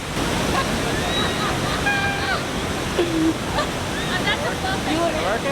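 Constant roar of rushing water from a waterfall in Bali, heard from almost below it, fills the scene, with faint voices and calls drifting over the loud wash.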